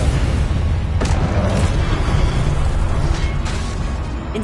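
Confringo explosive spell in the Hogwarts Legacy video game, a loud, dense rumbling blast with sharp bursts layered over a continuous booming roar.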